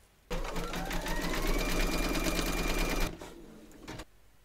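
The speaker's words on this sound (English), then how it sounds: "Load your thread colour for the accidental into your machine and then stitch round number six" Embroidery sewing machine stitching a round of a music-themed bunting design in black thread, a steady fast mechanical whir with rapid needle ticks lasting about three seconds, then stopping, close and loud.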